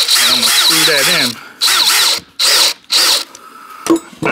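A power drill drives a screw into wood, with three or four loud whirring bursts separated by short pauses, rising in pitch near the start, then a faint click at the end.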